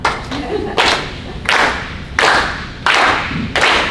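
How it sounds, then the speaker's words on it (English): A group of people at a library association gathering claps in unison, keeping a steady beat of loud, close hand claps roughly every three-quarters of a second, with no singing or talk over them. "we're gonna clap."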